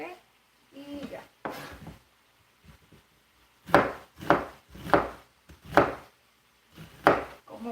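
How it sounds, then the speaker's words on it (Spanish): A knife finely chopping onion on a cutting board, irregular clusters of crisp taps in quick bursts, close and clear, with a voice speaking between them. "lo que voy a hacer la cebolla es que la voy a cortar picadita así finita"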